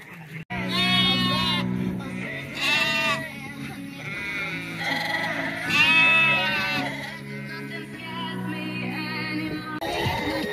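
Many sheep bleat loudly and overlap in a temporary handling pen high on a mountain in Ireland, with lambs among them. The calls come in repeated, drawn-out bursts over a constant low din of the flock.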